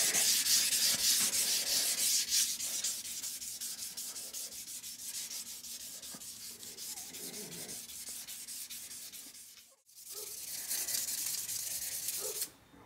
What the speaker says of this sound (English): I'll do all the finish sanding by hand